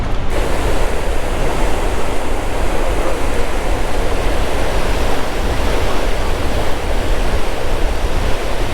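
A large waterfall near a boat ride in New York roars as a dense, steady rush of broadband noise, loud and close, with some wind buffeting and no clear speech.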